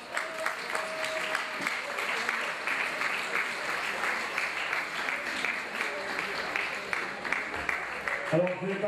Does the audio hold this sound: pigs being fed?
no